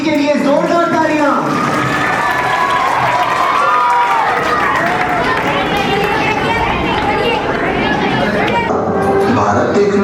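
A crowd at a school Independence Day event claps for a performer dressed as Mahatma Gandhi, with loud, dense applause mixed with children's cheering and chatter, and voices throughout.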